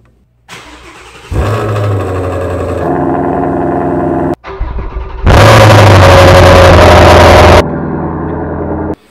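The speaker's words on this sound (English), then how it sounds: "We're going to do a cold start inside the exhaust." A Ford Mustang Shelby GT350 engine cold-starts, cranking and catching, idles loudly, then revs hard to a roaring high-rpm burst before settling, close and very loud.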